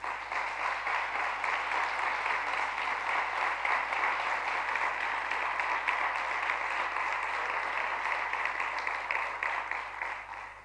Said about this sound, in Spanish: yo voy a pedir que por favor le deis un fuerte aplauso a este jurado